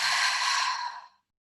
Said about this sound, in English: So you're going to take a big breath in, open mouth and exhale completely.